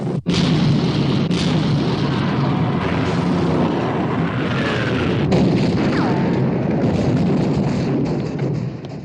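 Naval gunfire from warships shelling the German battleship Bismarck, a continuous loud roar of heavy booms and rumbling blasts that runs through the whole stretch with little letup.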